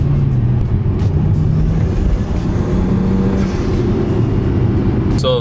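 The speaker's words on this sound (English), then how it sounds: "So the car already started misfiring." A car engine, fitted with downpipes and a cold air intake, running rough with a misfire across several cylinders, a loud, steady low rumble that wavers unevenly, with a sharp clatter near the end.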